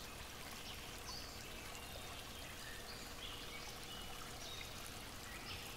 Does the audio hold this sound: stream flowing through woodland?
yes